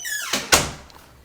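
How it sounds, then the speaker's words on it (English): A room door swings shut with a soft scrape and then a single solid thud, followed by a brief fading rattle. The sound is close and moderately loud, with no one speaking. "closing the door"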